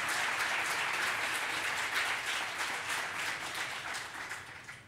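An audience at a journalism event claps steadily for fellow journalists, a dense continuous applause that holds strong and then gradually tapers off toward the end.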